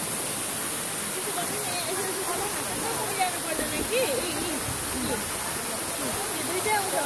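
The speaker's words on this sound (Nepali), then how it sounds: "यसरी बग्दै बग्दै यो खोला अनि तल डेड सीमा जाँदछ" Ein Gedi waterfall and stream in Israel flowing down toward the Dead Sea, a steady broadband rush of falling water with faint chirps and soft voices in the background.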